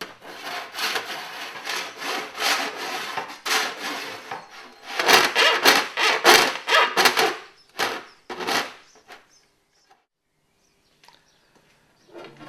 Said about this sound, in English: We use a file.